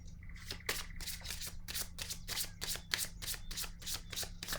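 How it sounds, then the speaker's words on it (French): Oracle cards are shuffled by hand in a quick, even run of about a dozen soft riffling bursts, close and fairly quiet over a low steady hum. "Je vais piger maintenant une carte de mon oracle de l'âme intuitive"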